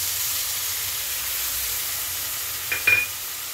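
Soaked spice paste with a pinch of sugar fries in a pan for tangra fish curry, giving a steady soft hiss with a brief clatter of stirring near the end.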